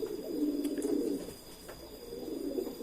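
Low, soft pigeon coos murmur on and off, close by, with a few faint higher chirps in the background.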